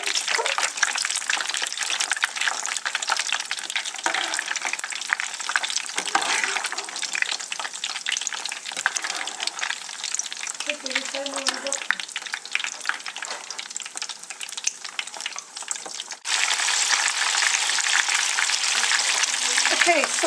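Stuffed olives frying in hot oil, a dense continuous crackling sizzle that stays loud and steady throughout, briefly dipping then swelling again near the end, with occasional stirring.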